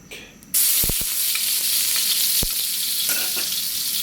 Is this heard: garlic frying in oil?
yes